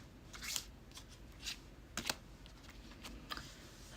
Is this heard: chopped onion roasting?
no